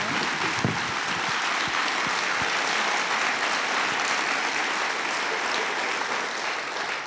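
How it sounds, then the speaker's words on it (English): Steady applause from a crowd at a Pecha Kucha presentation event, a dense continuous clatter of clapping at an even loudness throughout. "let's give them another round of applause"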